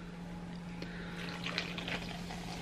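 Diet Pepsi poured from a can into a cup holding partly melted ice, a short close fizzing, splashing pour that builds toward the end.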